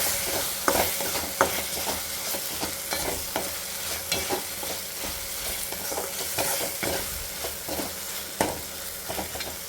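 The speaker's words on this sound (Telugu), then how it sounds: "ఇప్పుడు అల్లం వెల్లుల్లి వేసి బాగా ఫ్రై అయ్యేంత వరకు ఉండి" Ginger, garlic and green chillies fry in a pan with a bright, crackling sizzle, close and steady, punctuated by frequent spatula scrapes and stirs.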